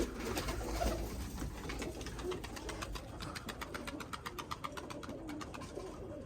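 A tumbler pigeon coos softly in repeated low, throaty phrases, close by, with a faint background hum.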